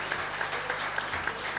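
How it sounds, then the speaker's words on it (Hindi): An audience at an Agrasen Jayanti celebration claps, a short, steady burst of applause from a seated crowd with a faint voice beneath. "तालियां बजाएं।"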